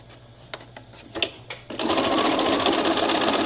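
A sewing machine stitching elastic down on a tote, starting with a few clicks and handling sounds before breaking into a loud, steady, fast whirring run that carries on to the end.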